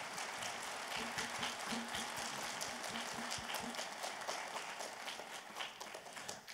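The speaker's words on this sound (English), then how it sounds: "Can we please give a round of applause for the BCA staff?" Audience applause at a middle school spring festival concert, honouring the staff: a steady wash of many hands clapping from a fairly distant crowd, with faint low background noise under it, sustained for several seconds without fading.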